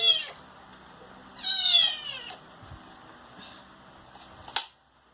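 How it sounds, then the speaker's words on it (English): A small kitten in the Philippines gives a few thin, high meows, with short pauses between the cries and some quiet handling noise in the background. "Hey, kitten."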